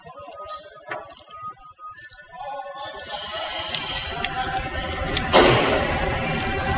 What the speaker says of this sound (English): We'll snug it down and then we'll torque it.